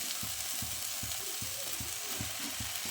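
Cut mushrooms fry in a pan with a constant sizzle, broken by regular soft thumps as they are stirred. No one speaks.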